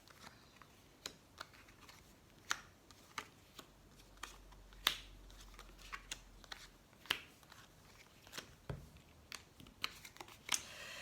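Tarot cards shuffled and dealt out for a nine-card spread, heard as a run of soft, scattered taps, flicks and slaps at irregular intervals, quiet and close, with no talking.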